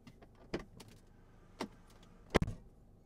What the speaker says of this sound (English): I'm going to unlock the car